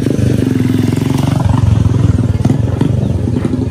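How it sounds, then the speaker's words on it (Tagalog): A motorcycle rides along a rough, difficult path. Its engine throbs loud and close with a steady pulsing beat, and bumps over the uneven ground add clattering jolts. "Pasok din yung motor pero mahirap."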